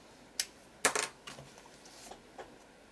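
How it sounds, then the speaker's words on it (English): A few quick, crisp snips of scissors cutting paper up close, irregularly spaced with short pauses between cuts. "We just snip it with a pair of scissors."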